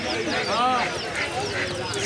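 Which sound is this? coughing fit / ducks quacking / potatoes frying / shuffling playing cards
ducks quacking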